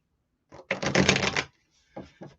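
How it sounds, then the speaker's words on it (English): Tarot cards are shuffled close by in a few quick riffling bursts, a crisp flutter of about a second followed by shorter softer shuffles, with no talk over them. "I'm just going to shuffle the cards up here."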